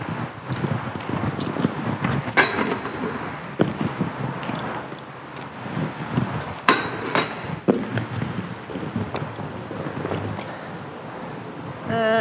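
A skateboard on UC 59mm 90A wheels grinds along a ledge outdoors, giving a series of scraping rasps and sharp clacks from the board hitting and leaving the edge, with wind noise over the microphone.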